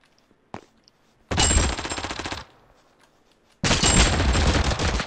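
Automatic rifle fire in the shooter game Totally Accurate Battlegrounds: two loud sustained bursts of rapid shots, about a second each, separated by a brief pause, with a single sharp shot just before and no talking.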